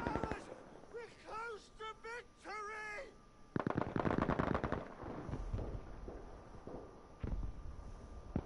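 An MG42 machine gun in a video game opens up in rapid, harsh bursts of fire after a few seconds of quieter tonal sounds and voices, then keeps rattling in uneven volleys.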